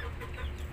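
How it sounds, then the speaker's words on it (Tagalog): An eight-month-old Cuban Tiger rooster gives a short, close, throaty cluck-like call, brief and alone. "Ayan yung ating tandang 8 months"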